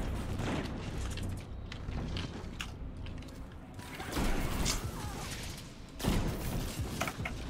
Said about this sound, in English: Yeah, well, so many explosions in there.